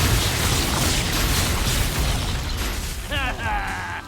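Blasting-curse explosion in Hogwarts Legacy, a dense roaring rumble of sustained blast noise lasting several seconds, followed by a brief warbling magical chime near the end.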